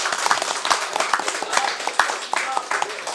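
An audience at a gathering of rhythm dance enthusiasts claps for their leaders, a brisk run of close, individually distinct hand claps with uneven spacing and some murmur of voices mixed in.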